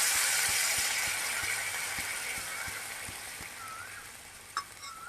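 Continuous sizzling hiss as water hits frying spice masala in a pan, strongest at first and slowly fading, with faint regular ticking underneath.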